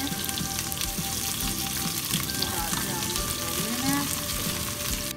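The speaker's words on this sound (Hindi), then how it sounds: "सबसे पहले हम एक देचकी में ऑयल गर्म करके प्याज शामिल कर देंगे, इसे हम गोल्डन होने तक फ्राई करेंगे" Onions sizzle steadily in hot oil inside a deep pot while cooking, a continuous dense frying crackle at close range throughout, with faint clinks of utensils and no talking.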